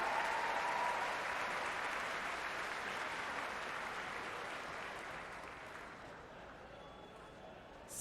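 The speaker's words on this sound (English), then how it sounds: "One more big round of applause." An arena crowd at a CrossFit competition applauds, a dense wash of clapping and cheering that holds steady and then slowly tapers off, with a faint voice over the noise.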